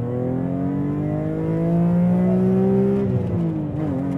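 A naturally aspirated BMW M3 Touring station wagon engine revs steadily and loudly, its harmonic tone climbing through a long sustained pull before easing off near the end, heard alone without voices.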